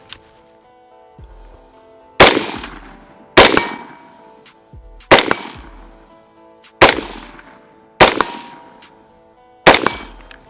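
A PWS MK116 Mod 2 rifle fires six sharp, loud single shots at an even pace about one to two seconds apart, each a hard crack followed by a ringing metallic tail, with no talking.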